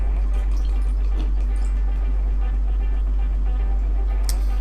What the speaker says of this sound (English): A little heavy-handed on the pour